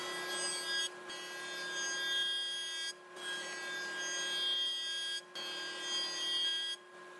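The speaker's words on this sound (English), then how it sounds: "now we'll come over to the jointer and make a bunch of passes and cut right down to that 5-degree angle" A jointer takes repeated passes over a wood block being cut to a 5-degree angle for tusk wedges, a steady machine whine broken by brief dips between passes.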